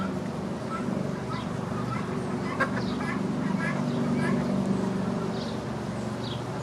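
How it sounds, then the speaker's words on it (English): Guinea fowl give repeated harsh, chattering calls at a moderate distance over a steady background hum. "so up there we have our guinea fowl. Those are the guinea hens."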